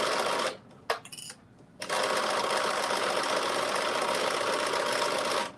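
A sewing machine stitching a drop-shoulder long sleeve top, running in fast steady bursts of whirring. It stops briefly near the start with a few clicks, then runs continuously again at close range.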